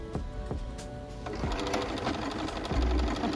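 A Bernina B570 QE sewing machine stitches a maple leaf quilting pattern, its needle running in a fast, steady mechanical chatter close by, with no voices over it.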